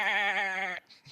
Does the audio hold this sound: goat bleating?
yes